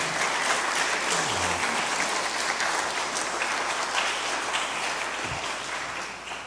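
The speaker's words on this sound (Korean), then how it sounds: "여러분 박수 부탁드리겠습니다." A congregation at a Friday church service applauds, dense, loud and sustained clapping that fills the room and eases off slightly near the end.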